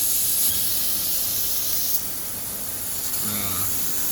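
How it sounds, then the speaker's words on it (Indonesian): A 1000-watt fiber laser cutting machine slicing through 6 mm thick steel plate gives off a steady, loud hiss with a high whine, continuous and unbroken throughout. "ini lumayan lelah kayaknya ini mesinnya, karena yang harus dipotong itu plat dengan ketebalan 6 mm"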